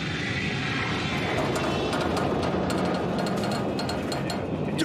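Dramatized reenactment of an Alaska Airlines airliner in flight, a loud continuous roar of engine and airflow noise filling the whole stretch, with rapid rattling clicks layered on top and no voices.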